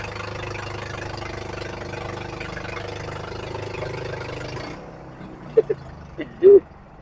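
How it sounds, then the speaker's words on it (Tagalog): A boat engine idles with a low, even rumble for several seconds, then stops, leaving a few quiet knocks and a brief voiced sound. "Binandar na yung makina guys."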